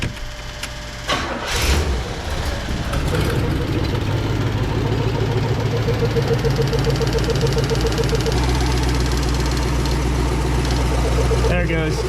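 A 1977 Oldsmobile 98 Regency with a carburetor cranks and fires, then settles into a steady, loud idle with a faint knock and a rough, uneven running note, while a voice speaks over it near the start.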